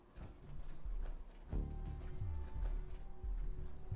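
Clip-clop hoofbeats from the Giddy Up Buttercup toy horse in a Fallout game, a steady trotting patter of hollow knocks that runs the whole time over a low background rumble.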